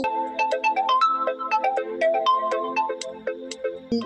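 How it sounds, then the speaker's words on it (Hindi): A melodic phone ringtone plays late at night, a clear, fairly loud repeating tune of bright notes with nothing else over it. "अरे इतनी रात का कौन फोन कर रहा है सर?"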